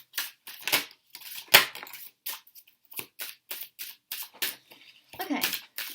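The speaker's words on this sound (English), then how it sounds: "these cards do make a lot of noise when they shuffle" Stiff, hard-stock tarot cards being shuffled in a series of sharp, crisp riffling bursts at a steady uneven rhythm, fairly close, with a brief snap near the middle.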